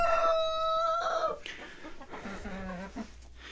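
Jersey Giant hens and a rooster heard up close: a loud, drawn-out crow opens, followed by softer clucks and low throaty chicken murmurs.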